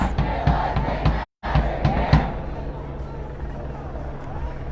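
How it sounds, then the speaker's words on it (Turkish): A Black Lives Matter protest crowd in West Hollywood chants slogans loudly in rhythmic bursts, with a brief cut in the middle and police helicopters overhead in the area. "sık sık sloganlar atılıyor"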